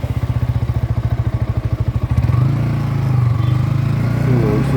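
A Yamaha R15M motorcycle with a custom lowering kit rides at about 40 km/h carrying a 60 kg pillion passenger, its engine first pulsing in a rapid, even throb, then settling into a smoother, steady drone.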